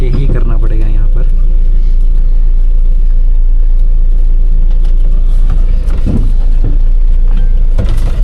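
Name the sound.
Mahindra Bolero Pickup engine while driving on narrow road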